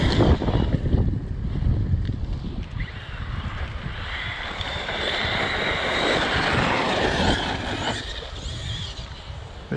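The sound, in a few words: Arrma Kraton RC car with 1650KV motor driving fast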